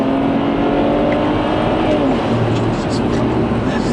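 A 500 hp 2008 BMW 335i accelerates hard, its engine roaring loudly and steadily with a rising whine, heard close from inside the car.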